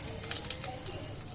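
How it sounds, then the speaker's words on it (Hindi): Spices for a tempering fry in hot oil in a pan with a dense, continuous crackling sizzle, steady and close, with no voices. "अब मैं जा रही हूँ इसको छौंकने। अच्छे से छौंक दूंगी।"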